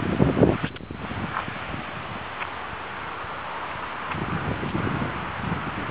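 Wind blows steadily during a bike ride through a lush shrub canopy, a continuous broadband rush with faint rustling, a brief louder gust near the start and a slight swell toward the end.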